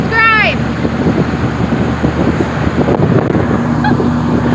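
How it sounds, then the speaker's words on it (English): Wind blows steadily on a fishing boat out on Hamlin Lake, a constant rushing roar against the microphone, with a short honking bird call near the start. "It's not my fault that the wind is blocking me."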